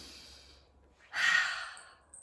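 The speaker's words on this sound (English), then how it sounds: "Take a nice big deep breath." A single deep breath drawn in and let out softly and close by in a quiet room, the exhale rising into a breathy rush before fading.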